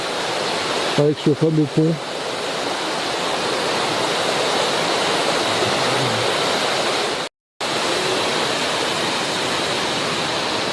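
Broad, steady roar of the large waterfall in the Cirque de Saint-Même, filling the whole clip at close range, with a short burst of speech near the start and a brief dropout toward the end.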